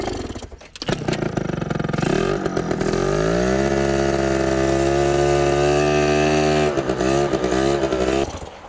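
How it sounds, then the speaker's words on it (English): A small Adly 100cc scooter engine held wide open, a loud, close, buzzing drone that climbs in pitch over a couple of seconds, holds steady, then wavers and drops near the end. "it's weird that it runs full throttle, but it won't idle"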